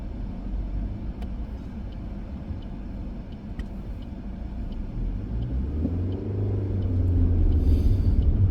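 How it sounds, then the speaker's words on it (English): A vehicle approaches from behind and passes, a steady road rumble of engine and tyres that grows louder toward the end, heard from inside a car on a driving test route through Hull. "there is a vehicle obviously behind me, okay, which will be passing me now"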